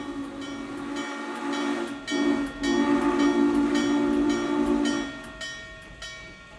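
Steam locomotive 611 on the Strasburg Railroad near Carpenter's crossing, with a sustained, loud multi-tone steam whistle that sounds in long blasts and then trails off.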